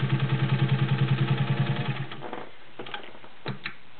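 A vintage gear-driven Singer 201-2 sewing machine stitches through 10 layers of cotton with a rapid, even mechanical chatter for two seconds, then stops, followed by a few clicks and clunks.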